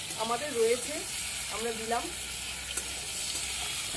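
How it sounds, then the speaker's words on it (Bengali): Potatoes and tomatoes sizzle and crackle steadily in hot oil in a pan, the base for a tilapia fish curry, with a voice speaking briefly over the frying. "ভালো করে সবগুলো ভাজা ভাজা করে নিচ্ছি, আলু টমেটো হয়ে গেল ভাজা ভাজা"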